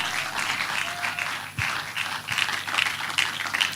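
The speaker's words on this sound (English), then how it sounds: "Let's make that applause louder if we celebrate him" Conference attendees at a futurism event applaud a speaker, a crowd of clapping hands sustained at moderate volume with a brief dip midway, no speech over it.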